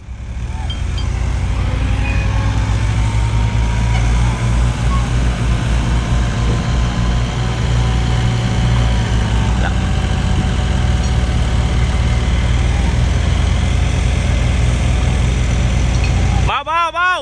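A tractor's engine runs in a steady low rumble, loud and close, on ground made slippery by heavy rain, with faint voices near the very end.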